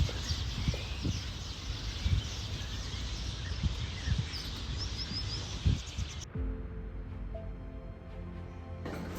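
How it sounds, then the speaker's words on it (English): Birds chirp faintly in the distance in trees in Cáceres, Spain, over outdoor ambience with occasional taps, then the sound drops to a quieter, calmer background. "the only sound was the peaceful singing of the birds in the trees"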